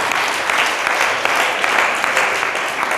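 Church congregation applauding during a Sunday testimony service, a dense sustained burst of many hands clapping at fairly close range, steady and loud throughout with a faint murmur of voices underneath.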